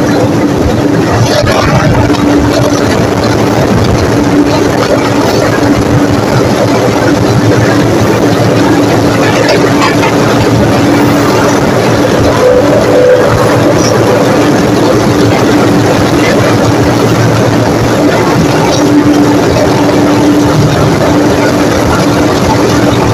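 The diesel locomotive engine of the Thall Express drones loud and close on the Attock to Jhand line, a continuous heavy low rumble with steady mechanical roar that never lets up.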